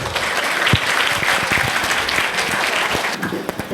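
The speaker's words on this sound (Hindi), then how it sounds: "ज़ोरदार तालियां हो जाए इन लोगों के लिए।" Audience applause at an annual school gathering, a dense steady wash of clapping from a crowd, fairly loud and continuous throughout with a few sharper individual claps standing out.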